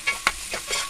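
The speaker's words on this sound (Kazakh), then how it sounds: "Үстінен тұз, бұрыш салып араластырып" A pan of frying food being stirred after salt and pepper go in, a soft sizzle with a few scraping stirs and clacks, close but fairly quiet, without talk.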